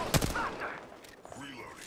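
Gunfire in the Apex Legends battle royale shooter during a ranked match, a sharp loud burst near the start followed by scattered fainter shots and game noise.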